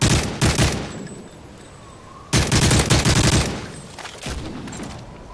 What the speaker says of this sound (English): Oh, shit, I'm getting shot.